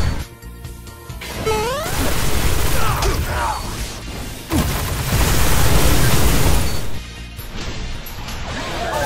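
A grenade going off in the video game Destiny, with loud crashing bursts and debris whooshes over dense gunfire and mechanical combat noise, one heavy impact standing out midway.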